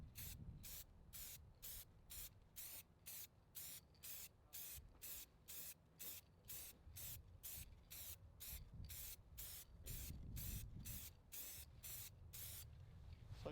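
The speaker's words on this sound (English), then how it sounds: "I just have this gloss black paint and primer all in one spray." Aerosol can of gloss black paint and primer spraying onto truck headlights in quick, evenly spaced short bursts, a close, crisp hiss repeated over twenty times with brief gaps between.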